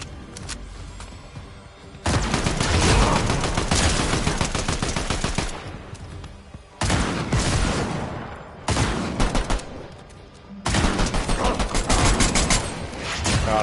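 Rapid automatic gunfire in the video game Fortnite, loud and close, in long sustained bursts separated by short pauses, with no talk over it.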